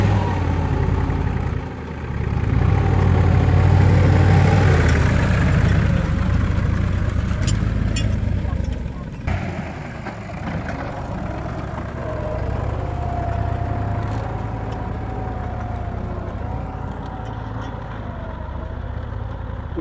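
A tractor engine works a field during plowing, a loud low rumble that swells early, then settles into a steadier drone with some shifts in pitch.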